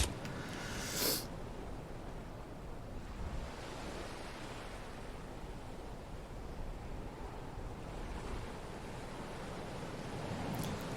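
Ocean waves wash in a steady, broad surf wash inside the Hitman video game, soft and continuous with one brief louder swell near the start and no talking over it.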